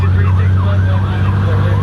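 A Miami fire department emergency siren wails in slow rising and falling sweeps, fairly distant beneath a constant low engine rumble.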